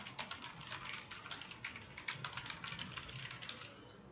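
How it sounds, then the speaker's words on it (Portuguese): A computer keyboard is tapped in a rapid, quiet run of light plastic keystrokes close by, including a press of the Enter key, with no one talking. "Eu estou apertando o Enter"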